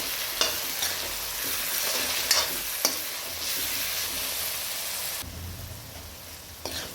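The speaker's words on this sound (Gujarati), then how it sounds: "આ બધાને સરખું મિક્સ કરી લઈએ આપણે." Undhiyu masala with salt and garam masala is stirred in a sizzling pan, a steady frying hiss broken by occasional scrapes and knocks of the spoon, close and continuous.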